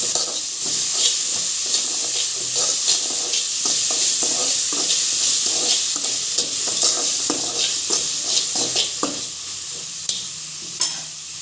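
Onions sauté in a pan with salt while a spoon stirs steadily, giving a continuous close hiss and sizzle broken by repeated scraping strokes. There is no talking.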